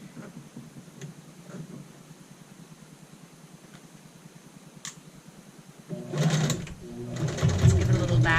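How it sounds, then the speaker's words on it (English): A sewing machine stitches the under collar side of a child's shirt on a half-inch seam allowance. After a quiet stretch it starts close up in loud, fast mechanical bursts that run to the end. "And we're sewing on the under collar side."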